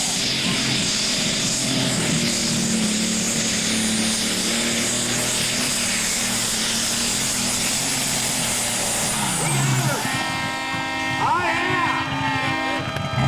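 A John Deere pulling tractor from Ohio roars loud and steady down a pulling track at an NTPA truck and tractor pull, its engine note dropping and sputtering near the end of the run amid crowd noise.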